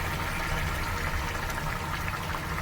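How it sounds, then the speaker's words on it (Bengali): Hot boiling water poured into a pot of Bengali rui fish curry (macher jhol), a soft steady splashing pour heard up close and alone. "তাই জলটা আমি ঢেলে দিচ্ছি।"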